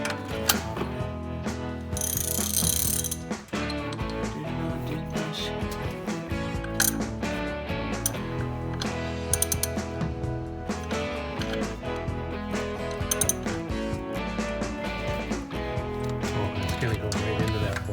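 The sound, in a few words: tightening a bolt with a ratchet wrench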